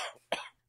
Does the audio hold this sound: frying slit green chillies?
no